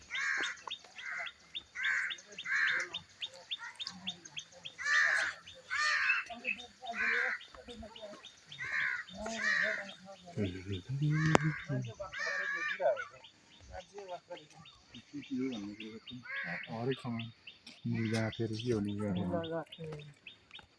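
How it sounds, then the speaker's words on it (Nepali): Birds chirp and call repeatedly in the background while people talk over them outdoors in Godawari park, the calls bright and fairly close. "माथि चराचुरुङ्गीहरू कराइरहेको छ नि,"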